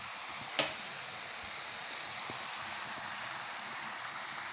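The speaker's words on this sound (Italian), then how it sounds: "I funghi in quest'altra padella si stanno cuocendo" Porcini mushrooms cooking in a pan make a faint, steady hiss and gentle sizzle, with one sharp click near the start and nothing else over it.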